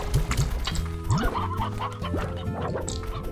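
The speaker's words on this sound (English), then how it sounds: "And even more chickens!" Chickens cluck in the Slime Rancher video game, several short, close clucks repeating in quick succession over busy game background noise, with no talk.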